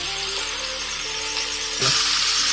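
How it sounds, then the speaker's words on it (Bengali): Chicken meat sizzling loudly as it hits onions already frying in a pan, a steady hiss that swells with a sharp burst of crackling near the end. "এবার আমি মাংসটা দিয়ে দিচ্ছি পেঁয়াজের উপরে"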